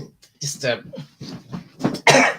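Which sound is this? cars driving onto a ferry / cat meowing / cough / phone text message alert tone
cough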